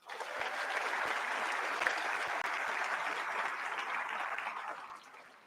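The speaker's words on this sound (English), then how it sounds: "Please give them all a round of applause." Sustained audience applause at a high school graduation ceremony, a dense steady wash of many hands clapping for several seconds before tapering off, with no talk over it.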